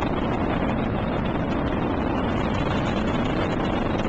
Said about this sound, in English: engine throttling back to 2/3 of rate of thrust